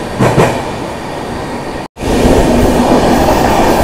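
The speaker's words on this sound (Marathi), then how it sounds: "आणि मुंबई पुणे जी ट्रेन जर्नी आहे ते स्पेशल का असते ते आपण समोरच बघा" The Deccan Queen express runs from Pune to Mumbai with a loud, continuous rumble of wheels and carriages heard close up, broken by one very brief dropout before the roar resumes.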